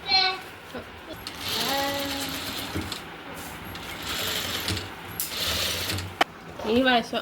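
A sewing machine stitches nighty fabric layered with lining and sponge, giving a steady mechanical whirring and clicking that runs in stretches, with a person talking over it.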